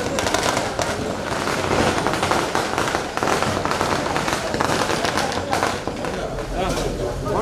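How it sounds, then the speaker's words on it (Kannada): Firecrackers burst in a dense, continuous crackling barrage, loud and close throughout, with voices mixed in under the popping. "ಪಟಾಕಿ"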